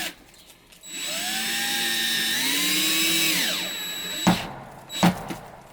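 Cordless power drill driving screws into wooden floor panels fixed on battens across a Sprinter van floor, one long steady whirring run that bends down in pitch under load, then two short sharp knocks.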